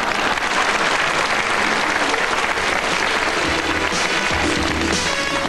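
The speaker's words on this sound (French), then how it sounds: "c'est pour que vous l'applaudissiez un peu plus longtemps" A television studio audience applauds Léon Zitrone with steady, loud, continuous clapping throughout. A faint voice or music sits low underneath near the end.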